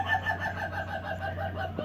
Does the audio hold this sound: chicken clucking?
yes